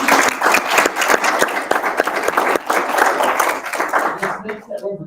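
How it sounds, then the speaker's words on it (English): A round of applause from the audience at a school board candidate forum, thanking the three candidates. Dense, loud clapping is mixed with crowd voices and tapers off in the final half second. "Round of applause for that."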